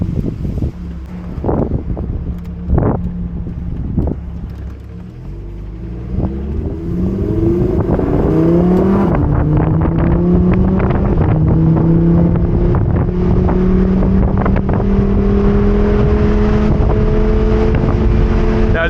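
A Lamborghini Huracan Evo Spyder, a convertible V10 supercar in manual shift mode, pulls away and accelerates hard, its engine note rising steadily through the gears under heavy wind rush.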